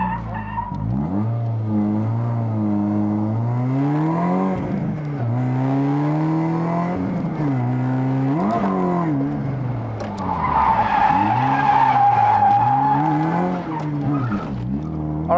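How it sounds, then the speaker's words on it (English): A drift car on an airstrip revs hard with a slipping clutch, engine pitch sweeping up and down repeatedly, then loud tire squeal and skidding as it slides, close and continuous. "All right, this clutch still slips."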